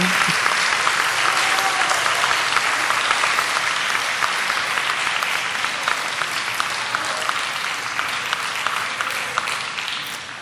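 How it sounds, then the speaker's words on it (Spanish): Loud, sustained applause from a conference audience sending off a group of performers, dense clapping that fills the room evenly for about ten seconds and eases off slightly toward the end. "Un fuerte aplauso para ellos nuevamente, para despedirlos como se merecen"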